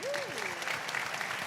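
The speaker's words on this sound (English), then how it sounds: "Please give another round of applause to our panelists." A conference audience applauds its panelists with steady, dense clapping that fills the room, while a voice carries over the applause.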